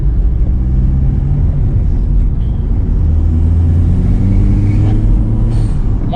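A Mk1 Skoda Octavia vRS engine drones steadily while driving, with a loud, low, continuous rumble throughout and no voices.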